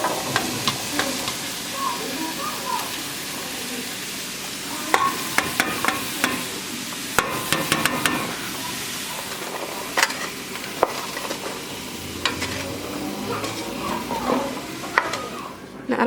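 Flour hitting hot oil in a pot to start a seafood gumbo roux: a steady close sizzle and hiss running throughout, with scattered scraping and clinking from stirring against the pot.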